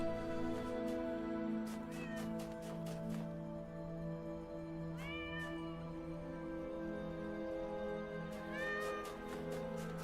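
Several short cat meows repeat at intervals over a sustained ambient music bed in the puzzle game Talos Principle Reawakened, the calls clear but moderate in level and spaced a few seconds apart.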